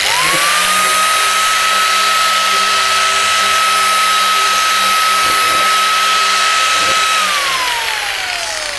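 Power sander fitted with an adhesive sanding disc spins up to a steady high whine, runs loud and close for several seconds with some irregular knocks, then winds down at the end.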